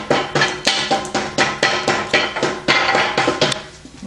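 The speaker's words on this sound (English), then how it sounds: "we're going to tap the main shaft downward using a plastic hammer" A plastic hammer taps the main shaft of a 1953-1962 Corvette steering gearbox during a rebuild, roughly a dozen sharp, fairly regular knocks close up with short ringing decays between strikes.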